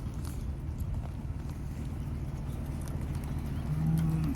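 Cattle on a farm with rotational grazing, a low bovine lowing that rises into a longer moo near the end over steady outdoor rumble, no speech.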